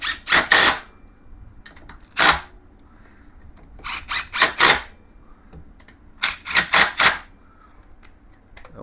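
Several short bursts of a power driver or impact tool tighten bolts on the rear differential of a 1996 Yamaha Wolverine 350 ATV, coming in quick clusters separated by quiet pauses.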